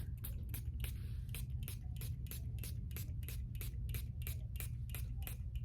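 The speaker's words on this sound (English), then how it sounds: "And then you come down here onto the tails and you give them a good spritz." Repeated quick sprays from a bottle of rubbing alcohol onto the tails of a tie-dye bag, a regular series of short hissing bursts over a low steady background hum.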